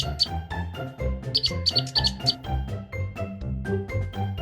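Cartoon birds chirp as a comedy sound effect: bright, quick tweets in rapid clusters over a busy, tonal backdrop, fairly loud and close.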